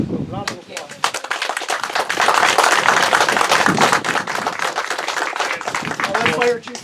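Applause from a small group at a community recognition for two rescuers who saved a woman from drowning, a few people clapping irregularly, close by, with voices talking over it.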